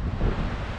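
Steady wind gusting through a New York street during a heavy 2021 snowstorm, a continuous low, rumbling roar buffeting the microphone close up, with no voices.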